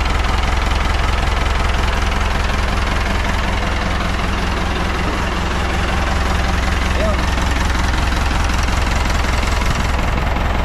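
A steady, loud engine idles continuously with a low rumbling hum and slight mechanical ticking, unchanging throughout, after a thrust washer replacement.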